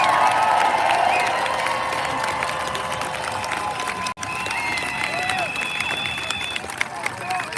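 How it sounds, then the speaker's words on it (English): An outdoor protest crowd in Washington, DC claps and cheers in a broad, rolling wash of applause. It fades toward the middle, then individual whoops and shouts ring out over lingering crowd noise. "Please give a warm round of applause for Jessica Denson"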